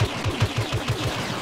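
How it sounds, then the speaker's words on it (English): Rapid blaster gunfire in a Star Wars Battlefront multiplayer heroes-versus-villains match, a steady rhythmic burst of about eight evenly spaced shots, loud and close with no talk. "He was shooting me."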